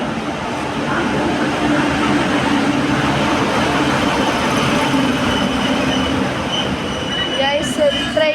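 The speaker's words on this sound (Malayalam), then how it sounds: "ഗൈസ് ഒരു ട്രെയിൻ പോണ് ഗൈസ്" A train rolls past close by in a loud, sustained rumble of wheels on rails, with a brief high wheel squeal near the end.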